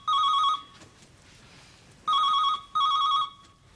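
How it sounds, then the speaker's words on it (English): A telephone bell rings indoors in short electronic trilling bursts, three rings with pauses between them, loud and close, no talk over it. "Your phone's ringing"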